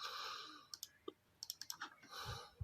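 Mouse clicks while selecting the next option on an online registration form, a few sharp clicks in a quick cluster and some isolated ones, close and quiet over faint background hiss.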